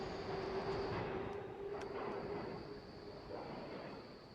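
A train rumbles past in Spider-Man: Web of Shadows, with a steady rolling roar, a sustained metallic whine and faint rail clicks, fairly close and fading slightly toward the end.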